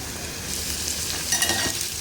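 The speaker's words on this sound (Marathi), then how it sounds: "बघा कांदा शिजवायचा आहे नरम करायचा आहे" Chopped onion sizzles and fries softly in a pan, with a brief stir scraping partway through and no talking.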